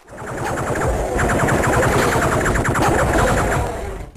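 Rapid automatic gunfire from the Duke Nukem 3D video game rattles loudly and continuously in a dense, chattering burst lasting a few seconds.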